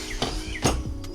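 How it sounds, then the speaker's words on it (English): Outdoor birds give a few short, bright chirps with gaps between them, scattered over a quiet background. "Those birds are loud."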